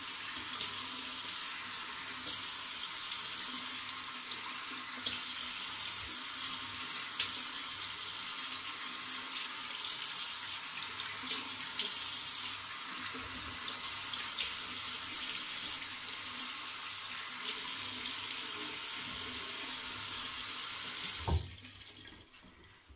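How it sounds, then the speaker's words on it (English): A running tap splashes water steadily as a face is rinsed, a continuous close hiss of flowing water that stops with a thump near the end. "I will rinse my face and get back to you"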